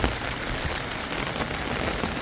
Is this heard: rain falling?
yes